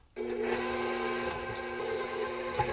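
Electric mixer blending a batch of icing with vanilla and other ingredients, a steady continuous motor whir with a faint rattle, running close and alone from start to finish.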